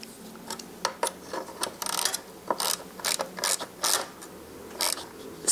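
A ratchet wrench with a 6mm Allen socket snugs bolts on a Ducati Scrambler fender eliminator, giving loud, close bursts of rapid clicking in irregular strokes with short pauses between them.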